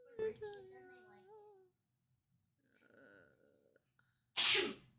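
A single sharp sneeze bursts out near the end, after a stretch of talk and quiet background sounds, sounding close and loud.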